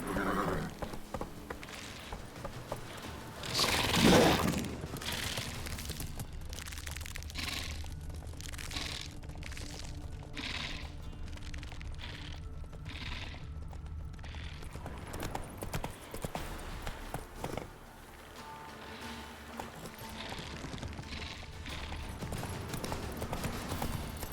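Roach the horse from The Witcher 3 trots with steady clip-clopping hooves in the foreground, a brief whinny early on, and faint talk over the game's ambience.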